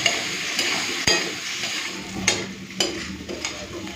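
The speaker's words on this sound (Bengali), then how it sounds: "মশলাটাকে একটুখানি আলুর সাথে ভালো করে ভেজে নিই।" Spices with Kashmiri chilli powder frying with potatoes in a pan, a steady close sizzle broken by sharp scrapes and clinks of a spoon stirring against the metal.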